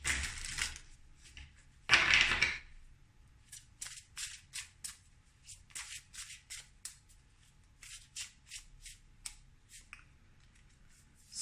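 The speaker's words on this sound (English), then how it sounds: "I'm going to shuffle these again to you." Tarot cards riffle and snap in quick bursts, a loud flurry early, then a steady run of sharp clicks and flicks as the deck is worked, no talking.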